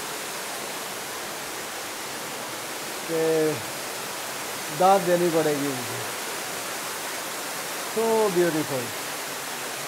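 Water flowing at a waterfall in a park, a steady broadband rush filling the whole clip while someone speaks briefly over it in Hindi.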